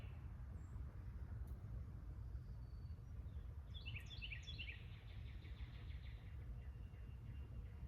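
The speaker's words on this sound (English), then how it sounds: "I can still hear cars driving" Distant cars drive past outdoors as a low, steady traffic rumble, faint and continuous, with a few soft bird chirps high above it.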